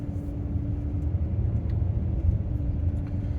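A van drives along a single-lane rural road in Pictou County, Nova Scotia, after a hurricane, with a steady low engine and road rumble from inside the cab and no talk.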